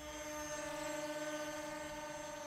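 Mirage 500 VTOL wing model aircraft hovering in vertical flight close by, giving a steady, loud electric propeller whine with sustained tonal hum and no breaks throughout.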